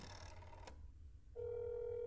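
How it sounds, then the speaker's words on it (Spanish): A telephone in a video game is dialed: a few quick keypad tones and clicks, then a steady ringing or dial tone holds alone to the end, fairly faint. "Vamos a llamar por teléfono, por si acaso."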